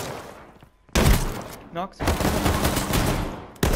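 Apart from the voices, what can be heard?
AR rifle gunfire in H1Z1 video game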